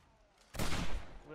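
A brief loud burst of rapid video game gunfire from a shooter, set during a Blood Moon night round at level 149, erupting after a quiet stretch and trailing into softer noise.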